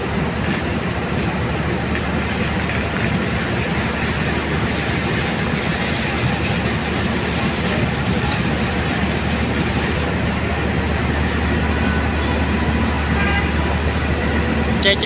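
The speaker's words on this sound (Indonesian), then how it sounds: "KA Argo Muria Malam tujuan stasiun Semarang Tawang Banjarnegara meninggalkan stasiun Gambir" The Argo Muria night train pulls out of Gambir station in Indonesia, a loud, steady rumble of rolling rail cars that holds evenly throughout without break.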